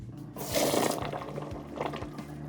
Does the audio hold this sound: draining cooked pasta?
yes